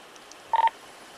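Telephone keypad tones from a phone being dialed by police, two or three short beeps in quick succession, fairly close and clear against a quiet background.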